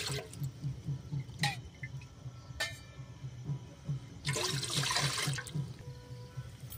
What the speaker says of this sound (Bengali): এবার আমি স্যুপটার জন্য পরিমাণ মতো এতে জল দিয়ে দেব।